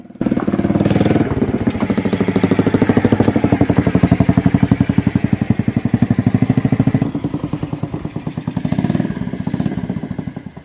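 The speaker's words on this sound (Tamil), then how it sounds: "இந்த பைக்கில் சவுண்டை பாருங்கள் எப்படி இருக்குன்னு சொல்லி." A Honda CBR motorcycle engine running close by, a loud, rapid, steady pulsing exhaust beat with a slight rev rise near the end and brief dips in between.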